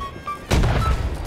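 Cannon fire in the video game Holdfast: a single loud, close boom strikes about halfway through and rolls into a heavy rumble that lingers to the end.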